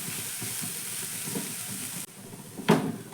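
Spices, including Kashmiri red chilli powder, are stirred into a tiffin dish in a pan over a steady low sizzle, with soft scrapes and one louder scrape near the end.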